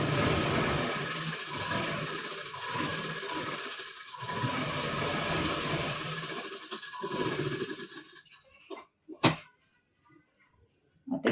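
A sewing machine stitching a blouse runs in a steady loud whir for several seconds, then slows and stops, leaving a few sharp clicks and knocks in near silence.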